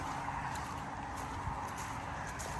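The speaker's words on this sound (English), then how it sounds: "Do hear some traffic though" Faint, distant road traffic, a low continuous wash of passing vehicles heard from a roadside camping spot, steady and quiet throughout.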